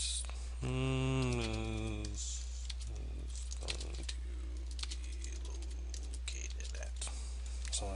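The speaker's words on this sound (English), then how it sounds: "So let's type something here." Clicking keystrokes on a computer keyboard, typed in quick irregular bursts near the mic under a steady low hum, while a voice talks over part of it.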